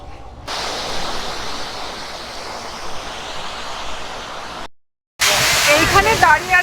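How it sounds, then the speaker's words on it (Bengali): Large mountain waterfall beside the Manang road in Nepal, a broad steady roar of falling water heard close by for several seconds, briefly cut off, then returning loud and spraying. "এটা তো মনে হচ্ছে আরো অনেক বড় ঝর্ণা।"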